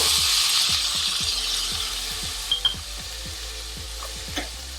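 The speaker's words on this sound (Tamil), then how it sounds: "ஒரு 1/2 கப் நம்ம தயிர் எடுத்து வச்சுருக்கோம் இல்லையா, அதை இதில் ஊற்றிடுங்க" Yogurt goes into a hot pan of mint pulao that has been sautéing, giving a broad hiss that fades slightly, with regular ticking clicks beneath and a couple of light utensil taps near the end.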